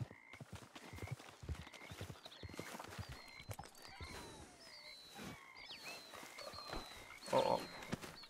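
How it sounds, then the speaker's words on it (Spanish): Horses approach in a RedM roleplay scene, with faint hoof clip-clops and an occasional whinny mixed among croaking frogs and chirping birds in quiet outdoor ambience. "Ah, escucho caballos."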